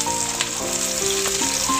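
Chopped onion with whole cumin seeds sizzles and fries steadily in mustard oil, a close, bright crackling hiss over soft stirring.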